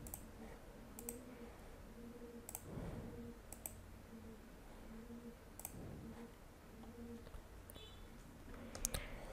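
A computer mouse gives scattered sharp clicks while form fields are selected on a contact form setup page. The clicks are quiet, spaced irregularly and heard over a faint steady hum.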